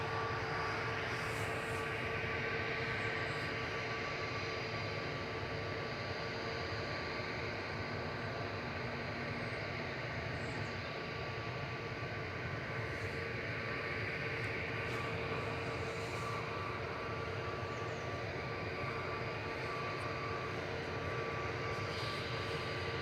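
Jet2 airplane engines at Manchester Airport, a continuous broad roar and whine holding steady throughout at moderate distance, with no talk over it.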